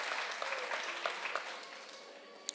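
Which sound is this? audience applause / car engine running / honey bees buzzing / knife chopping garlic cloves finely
audience applause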